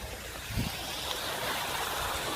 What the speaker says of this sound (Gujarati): ગરમ અને ઠંડુ પાણી મિત્રો બે એક સાથે ચાલુ કરી અને હવે પાણી જવા દીધું છે